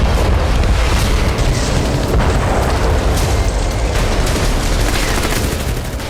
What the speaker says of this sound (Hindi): आसमान से मिसाइल गिरी, जोरदार धमाका हुआ।